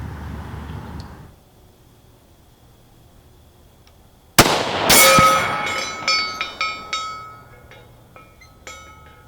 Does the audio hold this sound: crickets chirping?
no